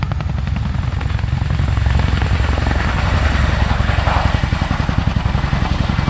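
A Chinook helicopter with two 5,000-horsepower Honeywell engines makes a high-performance departure at an air display at Cosford, a loud, steady rotor thump and engine roar close by throughout.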